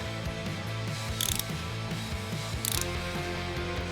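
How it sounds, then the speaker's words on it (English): Ratchet working a broken stud out of a Land Rover engine head, rhythmic clicking of the pawl with a couple of brief louder scraping bursts, close and steady. "seeing this broken stud slowly screwing out from the head"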